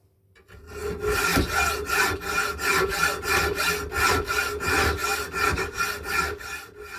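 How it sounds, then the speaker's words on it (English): A hacksaw cuts through a steel washer in steady, rhythmic back-and-forth strokes, loud and close, each pass grating and rasping without pause for several seconds. "I kind of like using manual tools as well, so hacksaw it is"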